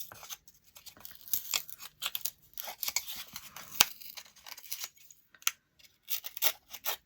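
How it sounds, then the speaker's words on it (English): Laser-cut craft pieces peeled back by hand, giving short intermittent tearing, crinkling rasps in scattered bursts, close and fairly quiet, with no talking. "now I'm just going to start peeling it back"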